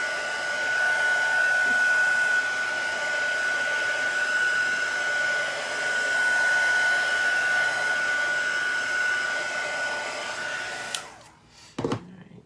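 A hair dryer blows a steady, loud whine over wet chalk paste for about ten seconds, then cuts off, leaving a few handling clunks.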